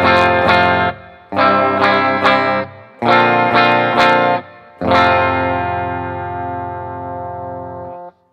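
An LTD EC-100 QM electric guitar on its bridge pickup plays distorted chords in four loud bursts. The last chord is left to ring out and fades slowly.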